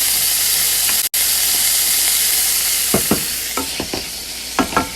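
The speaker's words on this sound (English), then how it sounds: "Mix and cook both for about 5 minutes and done." Corn seasoned with black pepper frying and being mixed in a pan, a loud continuous sizzle broken by a short gap, then a run of distinct scraping stirs near the end.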